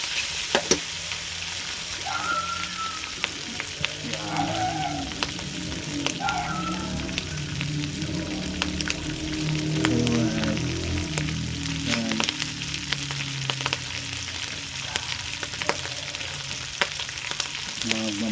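Pork chicharron crackling and sizzling in hot oil, a constant bubbling hiss with scattered pops and faint background voices throughout.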